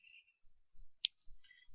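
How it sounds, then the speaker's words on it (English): A computer mouse clicking while Control is held to select files, one sharp faint click amid near silence. "I'm just holding down Control and clicking"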